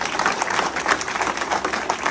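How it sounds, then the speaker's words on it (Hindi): Crowd clapping at a BSP party cadre meeting in India, a continuous, even wash of applause from many hands, moderately loud. "अब थोड़ा आप लोग ताली पे कंट्रोल रखिएगा"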